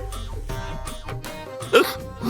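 A single sharp hiccup breaks through a busy background of music and voices, a brief abrupt gulping catch from a person nearby.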